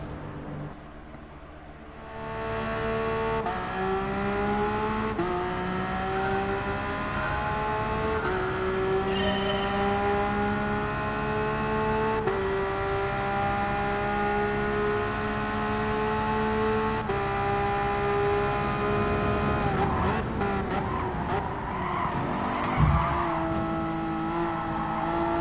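A tuned Porsche in Gran Turismo Sport races hard, its engine note climbing through the gears with repeated rising whines, steady and loud, with tire noise and a brief rough scrape near the end.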